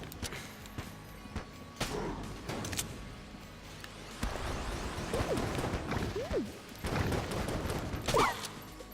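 Gunfire in the roguelike shooter Enter the Gungeon, a scattered run of quick shots and impacts with whooshes, intensifying toward the end with busy overlapping bursts.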